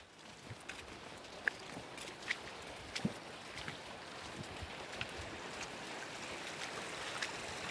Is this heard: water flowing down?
yes